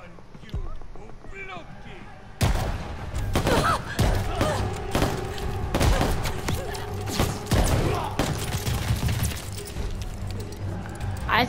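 Shotgun blasts in the Call of Duty Vanguard video game, a dense run of loud, sharp booming shots with heavy combat noise, firing repeatedly after a brief quieter start.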